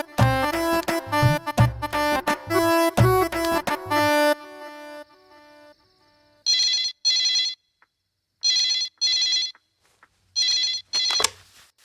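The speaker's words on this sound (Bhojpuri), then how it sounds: "अभी फोन लगाते हैं।" A phone call is placed: a brief melodic tune plays first, then the line rings in three double bursts separated by clear silent gaps, loud and close.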